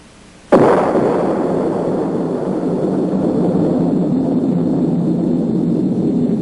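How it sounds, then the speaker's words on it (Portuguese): An atomic bomb explosion: a sudden heavy blast erupts after a brief quiet, then rolls into a long, sustained low roar that keeps rumbling without fading. "A primeira explosão atômica chocou o mundo."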